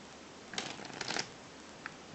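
A deck of playing cards is riffled and shuffled by hand in one quick brisk burst, close and crisp in a quiet room, followed by a faint single flick.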